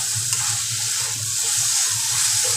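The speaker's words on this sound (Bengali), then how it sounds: "একটু ভাজা ভাজা করে দিলাম" Sliced capsicum, onion and tomato fry in a pan, giving a steady, even sizzle that runs without a break and without voices.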